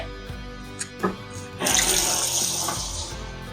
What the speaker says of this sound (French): Je vais vous remettre un petit coup d'eau chaude.